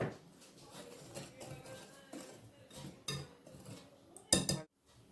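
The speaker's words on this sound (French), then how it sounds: "On va mélanger les ingrédients ensemble." Waffle batter ingredients, including flour and a pinch of salt, are mixed in a bowl, giving quiet, irregular clinks and scrapes of a utensil against the bowl, with a louder clatter near the end.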